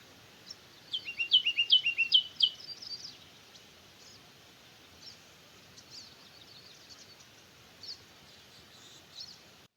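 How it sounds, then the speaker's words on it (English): Birds chirp in a quick burst of bright, high trills, then scattered softer calls follow intermittently against a quiet outdoor background near Durango, Colorado. "there was just so many birds just chirping"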